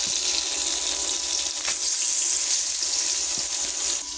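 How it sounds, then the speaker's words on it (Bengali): Bhola fish frying in a pan gives a steady, loud hiss and sizzle that runs unbroken and alone, with a faint clatter here and there. "মাছটাকে ভেজে নিব ভালো করে"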